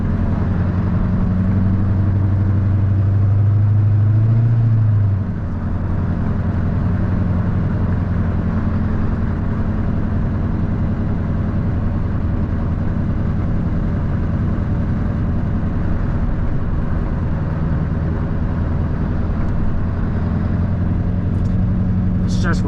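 2003 GMC Sierra 2500 Duramax diesel pickup towing a trailer, a steady low engine drone and road rumble from inside the cab, with a deeper tone in the first few seconds, as a person talks over it.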